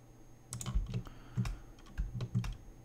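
Computer keyboard keys pressed repeatedly while modelling in Blender 2.8, many of them Alt keys: close, moderately loud clusters of clicky taps in an uneven rhythm, with no voice.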